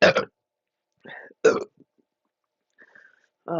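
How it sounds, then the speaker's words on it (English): Loud, close burps after chugging a 2-liter soda, several short bursts separated by silence, with a brief vocal sound near the end. "These burps just keep like overflowing."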